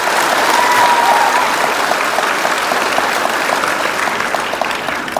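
Hands clapping together in a steady, rapid run of applause-like claps, loud and close, continuing throughout without speech.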